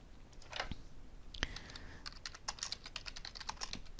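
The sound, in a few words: typing on a computer keyboard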